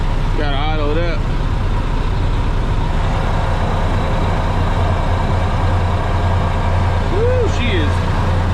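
A truck engine idles roughly just after starting, a low steady drone running throughout, with a person talking over it.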